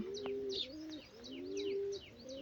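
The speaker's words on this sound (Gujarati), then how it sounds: "તુષારને છે ને કબૂતર ને એવું બધું પાળવાનો બહુ શોખ" About thirty-three pet pigeons coo softly in repeated low, rolling calls, with faint chirps from other birds mixed in, close and quiet.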